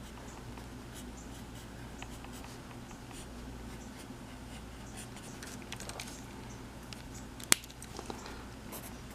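A pencil scratches across paper while sketching banana tree leaves, producing soft, close, continuous strokes with faint taps and one brief sharper tick near the end.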